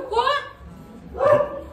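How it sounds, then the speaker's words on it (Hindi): A dog barks twice from nearby at a family home in the evening, with a short pause between the barks and children's voices mixed in around them. "बाकी टुक्कू भौंक रही है वहाँ"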